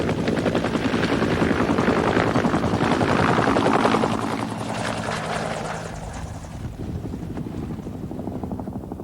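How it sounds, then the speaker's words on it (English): A Cobra attack helicopter passes over an Army base at Fort Carson, Colorado, its steady rotor thudding and engine whine loud and close, then easing slightly as it moves away. "the Cobra helicopter developed for air attacks in Vietnam was a quiet helicopter"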